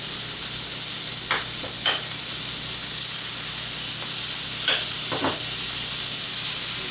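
Butter and oil sizzle steadily in a pan after a filet mignon steak has been seared, a constant bright frying hiss with a few brief scraping stirs, no talking.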